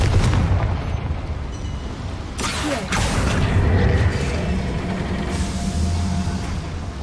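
A Confringo blasting spell goes off in Hogwarts Legacy, one sharp explosive burst around the middle, over low rumbling game ambience.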